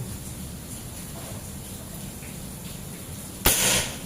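After a stretch of quiet ambient hum, one abrupt, loud snap of a folding PCP air rifle's mini slug striking and shattering a brick, with a short scattering rattle trailing off.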